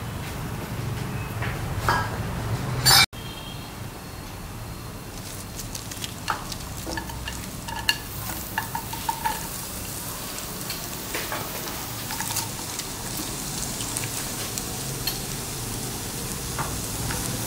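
Oil sizzling and crackling steadily in a pan while preparing Goan mackerel (bangda) curry, with a sharp clatter near the start and scattered pops over the continuous fry, no talking.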